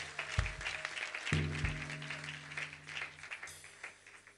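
Congregation in church clapping hands, a few loud claps up front followed by softer scattered applause, with faint chatter and a sustained tone underneath.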